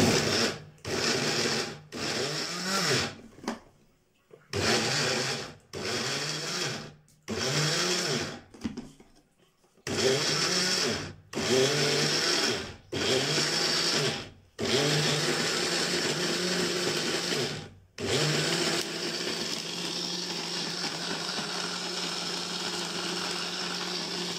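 A kitchen blender whirs through a mixture of lemon, garlic and spices in repeated loud pulses of a few seconds each, separated by short pauses, and then runs in one longer continuous stretch at the end.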